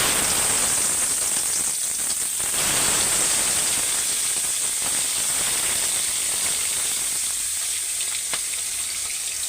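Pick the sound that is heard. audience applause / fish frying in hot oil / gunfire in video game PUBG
fish frying in hot oil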